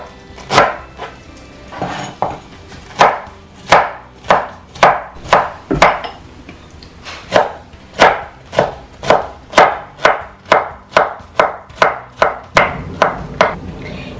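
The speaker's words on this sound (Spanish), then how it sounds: "Ya terminé de picar la piña" A knife finely chopping pineapple on a cutting board: a steady series of sharp, close knocks, roughly one to two per second, speeding up toward the end, with no talking.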